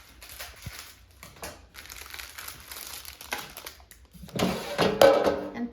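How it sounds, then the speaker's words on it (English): Frozen quiche being pulled from its plastic packaging, giving close, soft crinkling and crumpling that builds into a louder rustle near the end, with no voices. "Take it out of its plastic packaging."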